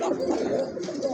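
Pigeons of the chila breed cooing in a seller's coop, soft low rolling coos that continue steadily through the short stretch at close range.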